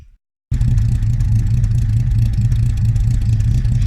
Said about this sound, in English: It's pretty much standard exhaust.